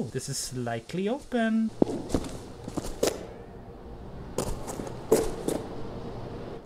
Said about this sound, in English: Why do I hear footsteps other than my own?